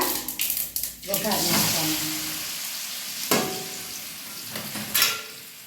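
Mustard seeds, cumin, asafoetida and curry leaves crackle and sizzle in hot oil as a tempering for muthiya dhokla, a steady frying hiss with sharp pops and spits close by.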